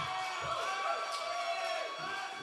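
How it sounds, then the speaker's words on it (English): Audience cheering and whooping at a comedy roast, a steady, dense crowd roar that holds for the whole stretch with voices mixed in. "So you're cheering because it's over, right?"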